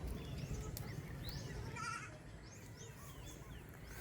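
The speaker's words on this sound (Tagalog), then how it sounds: "Yung sa ating mga kambing, mayroon doon, oh, sa field." Goats bleat on a farm field, a couple of wavering calls at mid distance over steady outdoor background noise that drops slightly halfway through.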